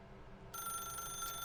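A telephone in The Stanley Parable: Ultra Deluxe starts ringing partway through, a steady electronic ring with a sustained, bright tone over a low room hum, with no voices.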